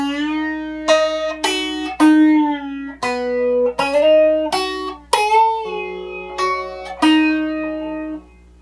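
Clean electric guitar plays a melodic solo phrase, with a string of separate picked notes, bends and slides, each ringing briefly before the next, close and alone without talk.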